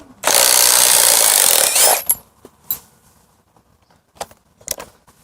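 A copy of a Makita DTD171 impact driver with a 13 mm socket drives an 8 mm lag bolt in a loud, near, continuous burst of rapid hammering lasting under two seconds, followed by scattered clicks and handling knocks.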